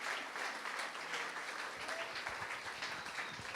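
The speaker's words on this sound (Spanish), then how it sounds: "No sé si quieren darle un aplauso de gratitud" A room full of people claps steadily, a continuous wash of applause that holds at an even level throughout.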